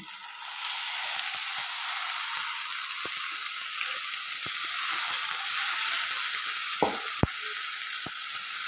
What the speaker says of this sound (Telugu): ఇప్పుడు ఇది కూడా పచ్చివాసన పోయేదాకా టమాటా పేస్ట్ని ఫ్రై చేసుకోవాలి